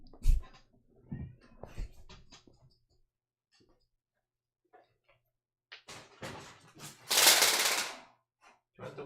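A pet cat meows indoors, a few short close cries scattered among soft rustles and quiet pauses, followed by a louder noisy burst.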